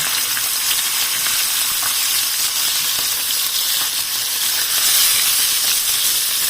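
Ginger frying in a pan gives a loud, steady sizzle and hiss that runs without a break, close up with no voices.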